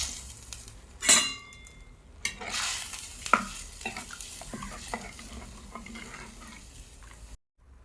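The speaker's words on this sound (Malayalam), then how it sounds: "കഴുകി വൃത്തിയൊക്കെ വെച്ചിരിക്കുന്ന മുരിങ്ങയ്ക്ക് ഇട്ട് കൊടുക്കും" Washed drumsticks drop into a hot pan with a sudden hiss, followed by soft sizzling and the scrape of stirring, close and fairly quiet.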